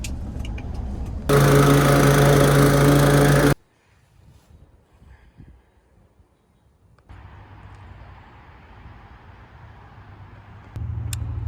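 A lawn mower runs loud and steady during solo yard mowing for a Texas lawn care business, then cuts out abruptly; a quieter engine drone follows and swells again near the end.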